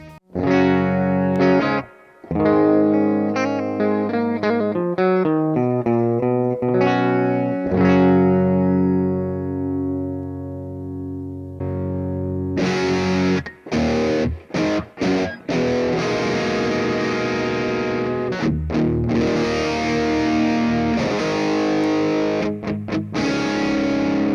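Guitar notes ring through heavy distortion from a Boss DS-1 pedal, starting with a picked, sustained melodic phrase, then a brief pause before loud, fuzzy, saturated strumming with choppy stops.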